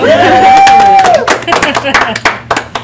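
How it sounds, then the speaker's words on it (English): Short burst of applause from a small community gathering, scattered claps with a few cheers rising under overlapping voices, loud and close. "Well, we applaud you."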